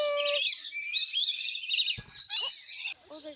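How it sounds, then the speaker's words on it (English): Lovebirds chirp and tweet in bright, rapid bursts, several overlapping calls close by, with a brief low thump partway through. "you could hear all the different sounds of the birds everywhere."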